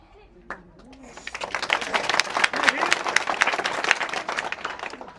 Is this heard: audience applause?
yes